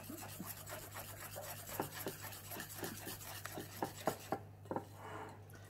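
Chestnut flour and rice flour stirred into muffin batter with banana, giving soft repeated scraping and rubbing strokes in a steady rhythm, close and moderately quiet, with no talking.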